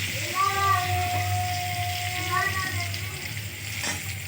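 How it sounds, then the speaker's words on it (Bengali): Potato pieces frying in hot oil for a home dinner, a steady close sizzle throughout, with faint tonal sounds and a voice in the background. "আলুটা ভাজা হতে থাক, তোমরা দেখতে থাকো"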